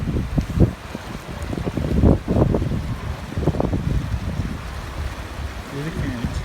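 River current flowing during a cold swim on a John Muir Trail hike, a steady close rushing and splashing of water with buffeting wind noise throughout.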